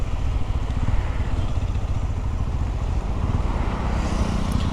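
A Hero Xtreme 125R motorcycle engine runs steadily and loudly close by, with a constant low rumble and wind noise throughout and no talking.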